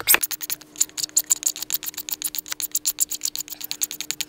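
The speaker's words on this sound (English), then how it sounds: "we're gonna scrape this. You're gonna scrape the case. Makes a lovely sound too." A knife blade scrapes a hard metal lighter case in rapid, even strokes, a close, raspy ratcheting rhythm with no talking.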